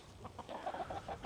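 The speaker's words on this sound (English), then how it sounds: "What is up, chickens?" Outdoor chickens cluck in short, repeated bursts, close by and fairly loud, with no talking.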